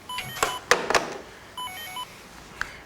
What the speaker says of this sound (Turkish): Dur telefon çalıyor